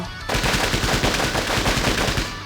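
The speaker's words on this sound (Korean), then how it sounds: "총성입니다." Gunfire in the Closers video game, a sudden loud burst of rapid automatic shots that keeps rattling without pause.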